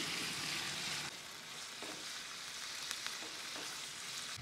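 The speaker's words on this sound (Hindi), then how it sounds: "इसको इतना फ्राई करेंगे कि चिकन अपना कलर चेंज कर ले" Cubed chicken frying in cooking oil, a dense crackling sizzle that runs throughout, with occasional stirring knocks and scrapes.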